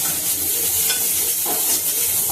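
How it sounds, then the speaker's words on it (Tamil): Okra pieces dry-sautéed and stirred in a kadai with no oil, giving a steady close-up sizzle and hiss with soft scraping stirs throughout. "சும்மா வெறுமனே எண்ணெய் ஊற்றாமல் வதக்கி வச்சுக்கலாம்."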